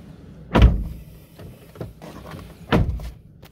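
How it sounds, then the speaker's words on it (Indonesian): Two solid thuds about two seconds apart as the door of a 2021 Wuling Formo blind van is shut, with a quiet interior hum between them. "Kalau gitu saya akan tutup pintunya."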